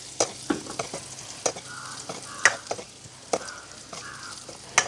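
Quail biryani ingredients frying in butter in a pan, a steady sizzle broken by repeated sharp scrapes and clinks of stirring at an irregular rhythm, close and fairly quiet.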